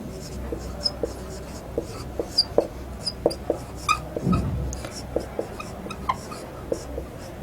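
A pen writing a math sum of two angles, soft close taps and short scratches scattered throughout, with a brief low voice partway through and a dog whimpering faintly.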